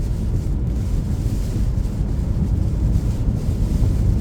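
Strong evening wind on a bridge roars and buffets continuously, a dense low rumble with gusty surges, loud and close with no other sounds.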